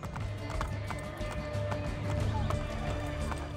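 A horse in Assassin's Creed Brotherhood gallops through a city street, with rhythmic clip-clopping hooves close up and a whinny near the end, the steps steady throughout over low game ambience.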